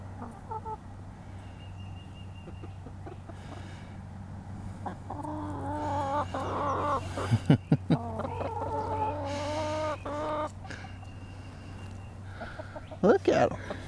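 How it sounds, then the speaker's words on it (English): Chickens clucking in a farm setting, a soft ambient hum at first, then a burst of nearby clucks and squawks, with a person talking intermittently. "You want to come check out some chickens?"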